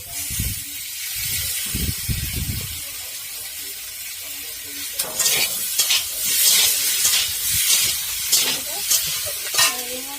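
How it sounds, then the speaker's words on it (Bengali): Ginger paste frying in hot oil in a pan for an aloo, cauliflower and paneer dish, a loud steady hiss and sizzle with low stirring thumps early, then bursts of crackling spatter as the paste is moved around. "আদা বাটাটা দিয়ে দিচ্ছি।"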